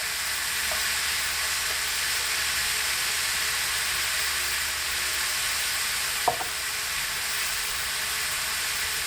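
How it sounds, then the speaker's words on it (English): Garlic fries in a pan with a soft, continuous sizzle and hiss, marked by a single sharp clink a little past the midpoint. "So I'm going to add the garlic now."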